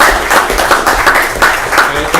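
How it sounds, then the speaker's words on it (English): Applause fills a city council meeting chamber, a dense crowd of hands clapping steadily and fairly loudly for the whole stretch. "We all give Earl a round of applause for his work"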